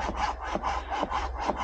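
A hand saw cuts through firewood outdoors at a campsite, steady back-and-forth rasping strokes about three per second, close and continuous with no voices.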